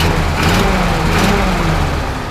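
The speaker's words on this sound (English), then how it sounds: "But you definitely hear an exhaust leak a little bit, and just a little valve train, but go ahead and rev it up again." A 1936 Ford Model 68 V8 Fordor touring sedan engine runs loud and close with a steady rumble and a slight exhaust leak, rising slightly in a couple of brief revs.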